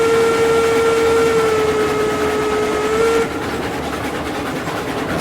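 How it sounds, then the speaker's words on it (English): A long, steady steam locomotive whistle in the video game RailRoads Online blows loudly for about three seconds, then cuts off, leaving a low rumbling engine hum. "Hear the whistle."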